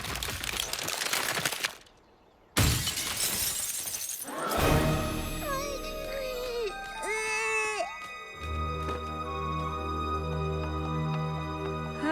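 Glass-like shattering crashes loudly and scatters into tinkling fragments, followed by a pause, another bright burst, then ringing magical tones and a low hum.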